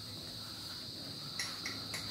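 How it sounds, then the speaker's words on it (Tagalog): Steady, faint cricket chirping fills a forest at Santa Maria, a continuous high trill with a few brief soft knocks near the end. "Rinig mo pa yung kuliglig."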